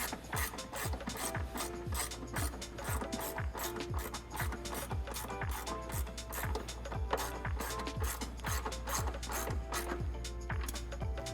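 Ratchet driving the factory 13mm bolt that holds the air box on a 2018-2022 Ford F-150, a fast even series of sharp pawl clicks repeating close up for the whole stretch, with no talking.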